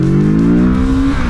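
Kawasaki Z650 RS retro 650 motorcycle pulling away, its engine note loud and close with a steady rising drone over about a second before easing off.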